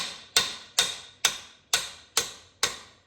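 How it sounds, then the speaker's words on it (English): Six evenly spaced metallic hammer taps on an engine main bearing cap of a 273 short block, each a crisp strike with a short ringing decay, close and clear. "Start these bolts and tap that cap with a hammer,"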